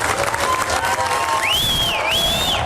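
A crowd applauds and cheers as a police officer who was attacked with a hatchet leaves the hospital. The clapping is loud and continuous, and a high whistle-like tone rises and falls over it partway through.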